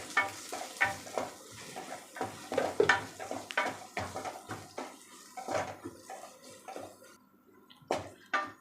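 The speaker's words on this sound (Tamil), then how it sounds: "இப்போ இந்த ஸ்டேஜில் நம்ம கட் பண்ணி வச்சுருக்க பச்சை மிளகாவை இதோடு போட்டு நல்லா வதக்கிக்கலாம்." Chopped green chillies are sautéed with onion and ginger-garlic paste for vegetable rava kichdi. Close, irregular scraping and stirring strokes in the pan sound over a soft sizzle, then ease off toward the end.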